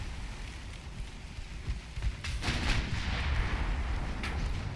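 Warship turret guns, including superfiring turrets, fire in the naval video game Ultimate Admiral Dreadnoughts: heavy booming salvos hit after a low rumbling lull and then roll into a sustained, loud crash of gunfire.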